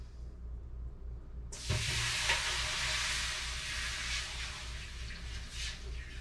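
Water poured into a hot pan inside an oven for baking sourdough bread bursts into a loud, sustained sizzle and steamy hiss that starts abruptly and continues steadily.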